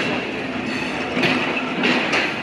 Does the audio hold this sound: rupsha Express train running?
yes